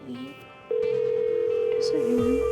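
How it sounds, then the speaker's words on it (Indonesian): A telephone tone sounds as a call is placed to a doctor from home in the evening about a sick child: one steady, loud, unbroken tone starts partway in and runs to the end, with a voice heard briefly around it. "Atau aku telepon dokter aja ya"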